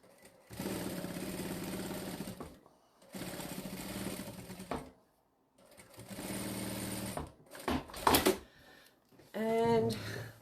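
A sewing machine top stitches a faux tote bag in three steady whirring runs separated by short pauses, followed by rustling fabric and a brief voice at the end.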